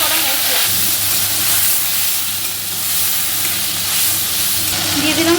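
Spice paste hits very hot white oil with bay leaf, dried chilli and whole cumin, giving a loud, steady sizzling hiss that runs continuously with slight swells.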